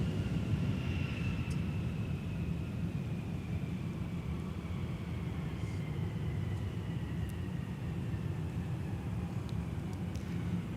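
Sun Country airliner, Flight 910, arriving at MSP airport, a steady low jet rumble with a faint descending whine, moderate and continuous with no talk.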